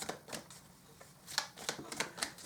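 Large tarot cards are shuffled by hand in quick bursts of riffling slaps and flicks, close and quiet, with short pauses between bursts.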